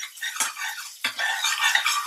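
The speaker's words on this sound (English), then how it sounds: "Just frying in a little oil." Garlic cloves and ginger fry in a little oil in a pan, giving a close, steady crackling sizzle punctuated by a couple of sharp stirring scrapes against the pan.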